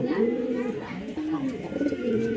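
Pigeons cooing in a loft under a hot tin roof, a steady run of soft, low, rolling coos close by that carries through the whole stretch without pause.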